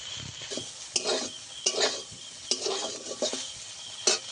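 Soybean chunks frying in oil with salt and turmeric, a soft sizzle under repeated scraping and stirring strokes of a spatula against the pan.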